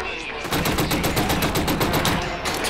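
Rapid automatic gunfire from a weapon in Killzone Shadow Fall, a loud, close, evenly spaced stream of sharp shots running almost without a break for about two seconds, with no talking over it.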